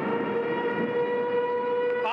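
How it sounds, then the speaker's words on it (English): Civil defense siren wailing during a storm, a steady, far-carrying tone holding one pitch before starting to rise at the end, with a voice briefly underneath. "now the siren's out"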